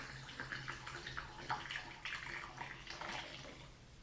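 Liquid pours slowly and carefully into a glass, a close, quiet trickle and splash that swells and fades in uneven bursts, with a low steady hum underneath.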